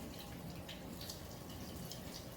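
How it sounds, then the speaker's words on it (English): Plum tomatoes rinsed under running tap water in a home kitchen, a steady quiet splashing flow with faint drips throughout. "We got our tomatoes here, little plum tomatoes. I'm gonna rinse them."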